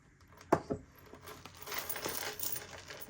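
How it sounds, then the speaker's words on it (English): Coins from an old wallet tumble into a coin jar, a bright metallic clatter of several coins striking at once, then scattered lighter clinks and rattling as they settle. "I have some coins jar here that I'm gonna put in the coins from the old wallet."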